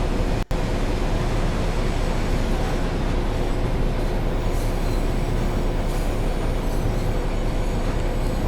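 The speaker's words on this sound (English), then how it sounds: "There's one train." A train passes on the Birmingham Cross City line, heard from the cab of a rail head treatment train as a loud, continuous rumble of wheels and rail noise with a sharp clunk near the start.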